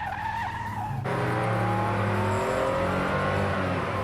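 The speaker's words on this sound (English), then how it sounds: "I just love the sound of this motor." A retro sports car engine revs hard and close, rising in pitch with a steady roar, and a brief tire-like squeal at the start.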